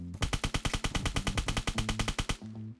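Automatic gunfire in the Apocalypse Rising 2 video game, a steady burst of about twenty evenly spaced loud shots that stops abruptly, followed by a brief quieter tail.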